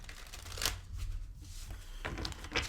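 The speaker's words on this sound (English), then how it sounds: "Let's shuffle." Oracle cards being shuffled by hand, soft papery riffling bursts repeating in a quick irregular rhythm, close and fairly quiet with no talking.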